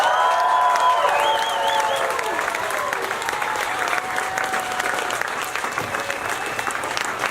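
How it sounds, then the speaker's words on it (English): A crowd at an outdoor animal rights march in the Netherlands claps loudly and continuously for a speaker, with some whistles and scattered voices rising early on before the applause gradually thins. "Hand of applause for Susan from Animal Rights, please."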